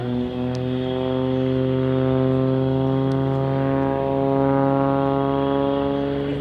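A solo aerobatic display aircraft flown by a highly experienced pilot at an outdoor air show, its steady droning engine note holding loud and continuous throughout, with no voices.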